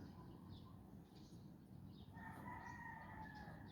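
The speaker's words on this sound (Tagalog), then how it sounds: "Maingay ang manok." Faint rooster crowing in the background over a steady noisy hum, with a drawn-out call rising toward the end.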